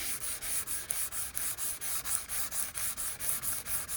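Hand sanding of a Fiat Ducato's painted front panel with 400 grit paper: a light, rhythmic scratchy rubbing in even back-and-forth strokes, about three per second, close and alone.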